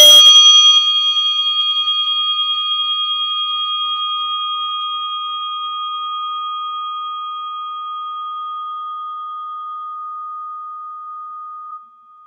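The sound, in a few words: meditation bell ringing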